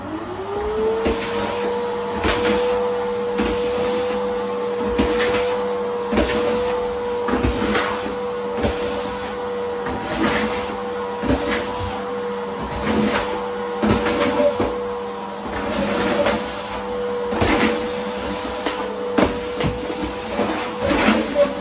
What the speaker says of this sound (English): you want to lift up a little bit with the vacuum cleaner